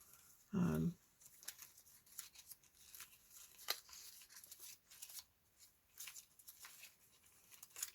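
Scissors trim paper down for a craft page, producing quiet snipping and rustling with one louder thump near the start and soft speech nearby.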